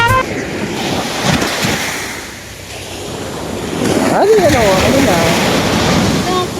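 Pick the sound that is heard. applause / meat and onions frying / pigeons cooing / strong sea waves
strong sea waves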